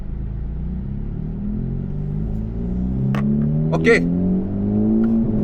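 A car drives past on a road, a steady low rumble that swells gradually as it nears, with a brief sharper noise in the middle and a voice speaking once over it.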